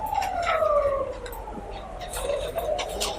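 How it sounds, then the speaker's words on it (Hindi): An ambulance siren wails past during an accounting lecture, its falling tone sweeping steadily over about three seconds at moderate loudness against a noisy background. "एम्बुलेंस है"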